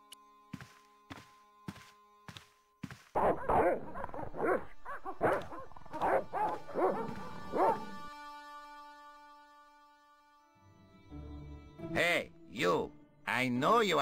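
Dogs in the adventure game Broken Sword: Shadow of the Templars give a run of sharp, evenly spaced barks that sound close by, followed by longer stretches of game sound and voices.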